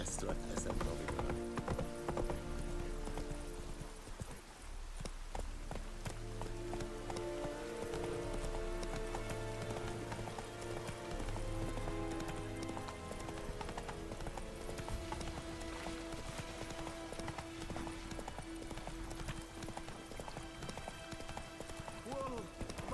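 Horse hooves clip-clop at a gallop in The Witcher 3 video game, a steady rhythmic pounding under game music and ambient rain, with occasional snorts and whinnies and bits of character dialogue.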